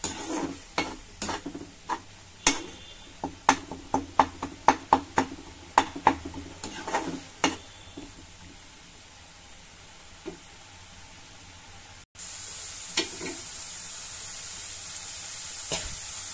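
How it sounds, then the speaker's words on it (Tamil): Tomato paste sizzles in a frying pan while a spoon stirs and scrapes it in quick bursts, then a steadier, louder sizzle and hiss takes over near the end; nobody speaks. "தக்காளி நல்லா வதங்கட்டும்."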